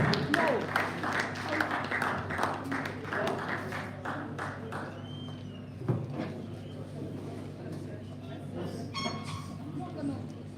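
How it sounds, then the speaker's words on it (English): Scattered applause from an audience of students at a secondary school quiz competition final, irregular claps and taps fading over several seconds, fairly quiet, with voices and room noise mixed in. "Keep clapping until the last person sits."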